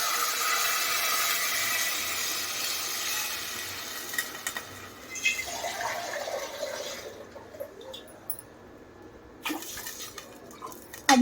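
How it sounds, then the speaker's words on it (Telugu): Water poured into a cooking pot for rice that already holds green chillies, onion and masala, a loud rushing pour that thins into dripping and tapping, with no speech. "రైస్కి సరిపడా వాటర్ అయితే వేస్తుంది ఫ్రెండ్స్"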